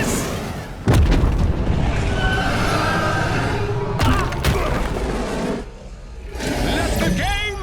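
Missile explosions in a LEGO Marvel Super Heroes 2 cutscene, loud booming blasts with rumbling tails and a brief lull, sound effects layered with music and voices.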